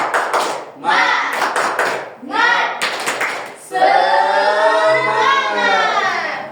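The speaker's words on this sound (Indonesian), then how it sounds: "Tepuk semangat." A grade 2 classroom of standing children performs a rhythmic spirit clap: bursts of patterned, close handclaps with chanting young voices, followed by a sustained shout.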